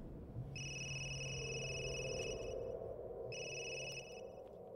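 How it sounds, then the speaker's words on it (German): A telephone rings in Resident Evil Village, two bursts of an electronic trill with a pause between them, clear and fairly loud over a low ambient hum. "Telefon."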